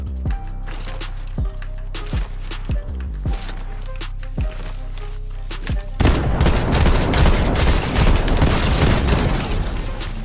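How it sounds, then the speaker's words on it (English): Rapid bursts of gunfire in a Fortnite match, sharp repeated shots with booming low thumps, thickening into a dense continuous volley of fire during the last few seconds. "How did none of those first shots hit?"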